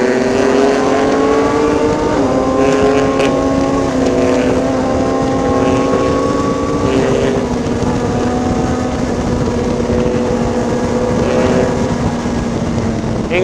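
A Suzuki GSX-R1000 motorcycle accelerates at full throttle on a ride through Ilocos. The engine's loud, rising tone is heard from the rider's position, with heavy wind rush over the microphone and no speech.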